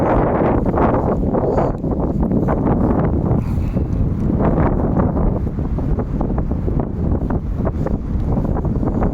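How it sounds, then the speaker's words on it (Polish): Strong wind at a former military airfield buffets the microphone with a loud, continuous roar and rumble that barely lets up, gusting steadily throughout with no talking. "Strasznie wieje. Na pewno słyszycie to."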